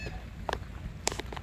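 Gulls call at a waterfront in Rockport, Texas: two short, harsh squawks about half a second apart, fairly faint over low outdoor rumble.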